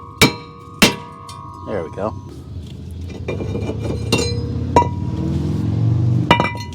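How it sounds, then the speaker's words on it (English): Sledgehammer striking a rusted brake rotor on the front hub of a 2015 Toyota RAV4 XLE AWD to free it, several sharp metallic clangs at irregular intervals, close and loud, with someone speaking briefly. "usually the sledgehammer will get it, so let's just give it a try here"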